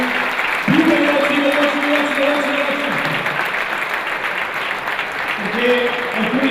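An audience applauds at a youth under-17 volleyball trophy ceremony, with steady clapping beneath someone speaking over a loudspeaker throughout.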